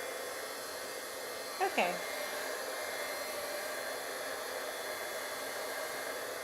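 A hair dryer blows steadily and close, drying and heating the back of a painting to dull its shiny paint, with one brief spoken word partway through.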